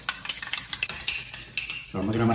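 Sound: stirring sour cream with Crystal hot sauce

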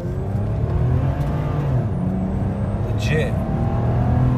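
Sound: 2006-2012 Toyota RAV4 engine running

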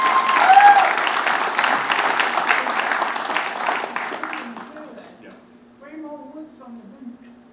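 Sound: congregation applauding a baptism

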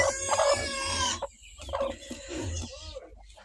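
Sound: broody hens clucking

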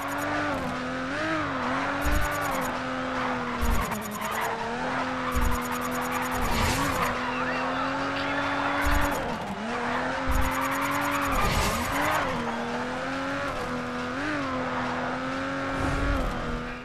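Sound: car drifting with tire squeal in racing video game GRID

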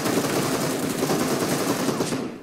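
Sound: gunfire in video game PUBG Mobile

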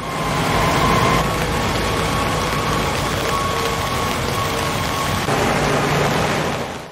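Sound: heavy rain falling at night in Adıyaman

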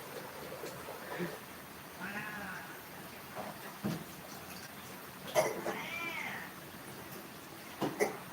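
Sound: pet cat meowing

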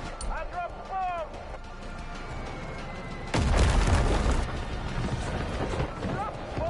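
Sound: bomb explosion in video game Far Cry 5

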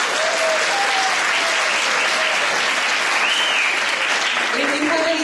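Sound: audience applause for students at school Christmas play

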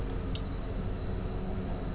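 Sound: train braking in video game Train Simulator 2020, ÖBB Taurus 1016

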